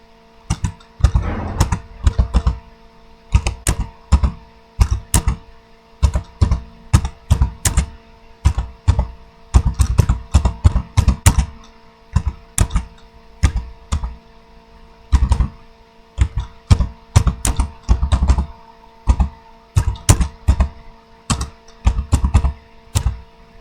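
Typing on a computer keyboard while entering a comment in Microsoft Word, with close, crisp key clicks in quick bursts and short pauses, no talk.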